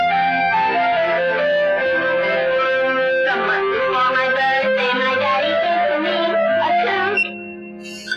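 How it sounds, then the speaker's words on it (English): A circuit-bent Yamaha REX50 effects unit plays loud distorted, reverb-soaked tones, a dense sustained wash with shifting pitches that drops away abruptly near the end. "reverb plus a distortion."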